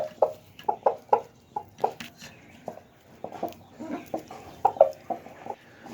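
Domestic chickens cluck repeatedly in short, irregular bursts close by, with a few louder squawks among softer calls.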